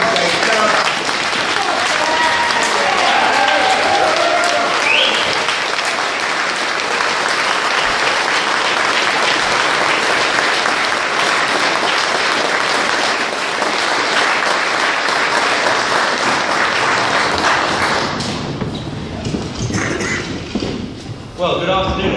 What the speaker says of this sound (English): Please give a massive round of applause and welcome to stage Gerard Batten